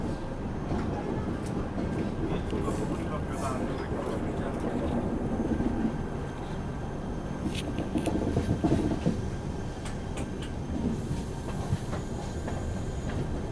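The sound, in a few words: Poorvottar Sampark Kranti express train running after leaving the station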